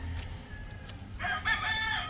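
A rooster crows once, fairly distant on a farm, over a low steady background rumble.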